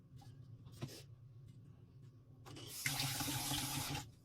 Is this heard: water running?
yes